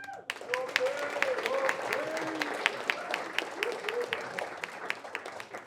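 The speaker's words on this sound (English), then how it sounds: "a round of applause for Pete and Leanne." Wedding guests applaud Pete and Leanne during the speeches, a warm, lively round of clapping from many hands with a voice briefly heard over it at the start.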